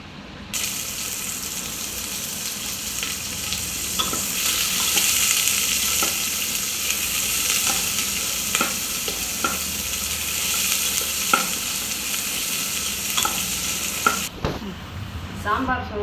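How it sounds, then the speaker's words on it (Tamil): Mustard seeds, cumin and fenugreek frying in hot sesame oil for sambar rice, a loud continuous sizzle close by with occasional sharp pops and stirring clinks, dropping away near the end. "அதனால இந்த எண்ணெயில் போட்டு இப்போ வதக்கிடுவோம்."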